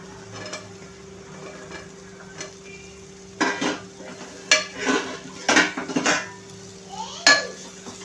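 Bottle gourd is tipped into a pan of softened tomatoes, then stirred with a metal spoon. Quiet scraping and a faint sizzle give way to several loud clanks and scrapes against the pan, with no talking.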